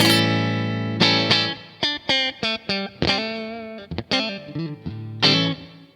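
Fender Player Series HSH electric guitar on its middle single-coil pickup plays a run of short plucked notes and a few sustained chords, clean, quieter and somewhat thin in tone, with no voices.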